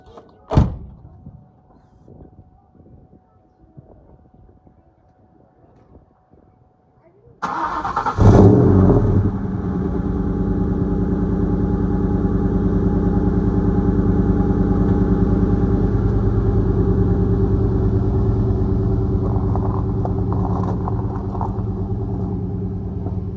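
A Ford Mustang GT starts up after a few quiet clicks and a door sound: the engine cranks, catches with a burst, then settles into a steady, loud, close rumble for the remaining fifteen seconds. A voice is heard faintly at the start.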